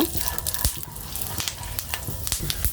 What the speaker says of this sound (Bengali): আমি ঘির সাথে এখন ভালোভাবে ভেজে নিচ্ছি